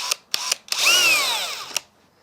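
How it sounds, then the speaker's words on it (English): Short bursts of a power drill boring a secondary pilot hole into plastic, then one sustained whining run of about a second that pitches downward, close and loud with no talk. "now we're going to drill the secondary pilot hole"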